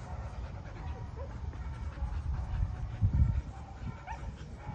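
A tired dog panting near the microphone, quick rhythmic breaths with a few small whimpers and yips, alone without talk.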